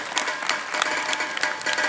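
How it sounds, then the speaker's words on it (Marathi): An audience clapping at a community gathering, a short spell of brisk, scattered applause from a modest group, fairly close and steady throughout. "सर्वांनी टाळ्या वाजवून त्यांचं हे करायचं."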